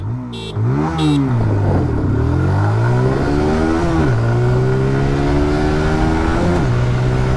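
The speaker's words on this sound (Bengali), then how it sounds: "চলুন তাহলে অ্যাক্সেলারেশন টেস্টটাকেও আপনাদের করে দেখিয়ে দিই" A 2024 TVS Apache RTR 160 2V motorcycle accelerates hard in a test run, its engine climbing in pitch through several gear changes with brief dips between, loud and close throughout.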